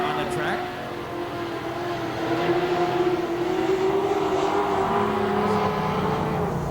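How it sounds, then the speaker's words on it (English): A late model race car runs on the Bakersfield oval during a Labor Day race, its engine holding a steady droning pitch that swells slightly as it nears, under a track announcer's voice. "And the number 13 car on the track."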